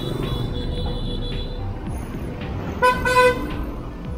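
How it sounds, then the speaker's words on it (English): Vehicle horns honk in busy Vietnam street traffic, a couple of short toots rising over a steady hum of engines and road noise, moderately distant. "People love to use their horns here."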